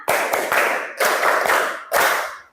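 A group of students claps a counted five-beat rhythm in three loud, dense bursts of hand claps with short gaps between them.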